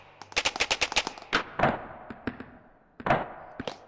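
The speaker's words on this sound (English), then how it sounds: "We do have some sort of Nerf style guns" Nerf-style toy guns in a VR locomotion tech demo game fire a rapid burst of about ten sharp shots, then a few scattered single pops and thuds, close and loud.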